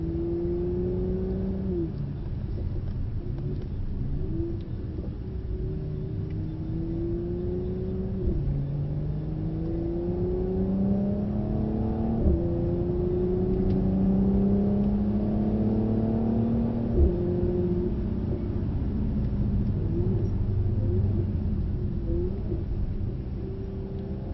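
A Mercedes race car laps a circuit, its engine droning steadily and rising through revs in repeated climbing sweeps, with a brief gear-change break between each rise, loud and continuous throughout.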